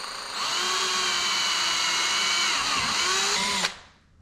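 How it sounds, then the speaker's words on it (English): A power drill bores a pilot hole while a stage 2 or stage 3 conversion kit is fitted to a C7 Corvette. The whine is loud and steady, runs about three seconds at a constant pitch, then cuts off abruptly. "We're gonna go ahead and we're gonna start with our pilot hole."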